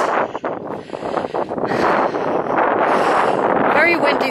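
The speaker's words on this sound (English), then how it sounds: "Very windy though for the camera" Loud, steady wind buffeting the microphone, a continuous rumbling roar with gusts that swell and ease throughout.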